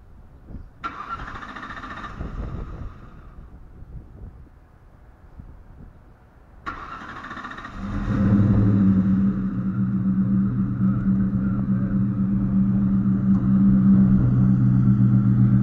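A Ford Mustang with a small aftermarket cam cranks twice, then catches and settles into a loud, steady, lumpy idle up close.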